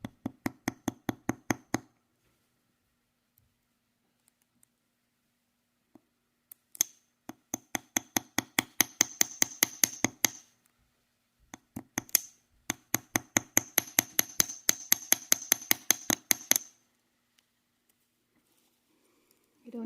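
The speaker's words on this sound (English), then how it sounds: "just tap the tips of the wings just to widen them a little bit, help keep the line on" Small hammer tapping the wing tips of a wire-wrapped dragon sword pendant, rapid bursts of light metallic taps in quick even runs separated by pauses, close and crisp with no talk.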